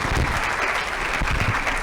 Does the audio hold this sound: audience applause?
yes